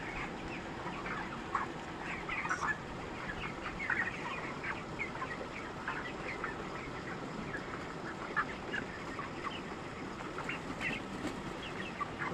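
Farm chickens raised for market cluck softly and intermittently, a faint, scattered chorus of short calls throughout with no one talking.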